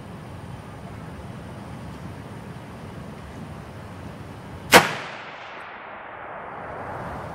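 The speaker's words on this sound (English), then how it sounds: "Let's do one more shot at this target." A single sharp rifle gunshot cracks midway through, fired while zeroing an ATN X-Sight II HD 5x20 scope outdoors. It decays into a short echoing tail over a steady background hiss.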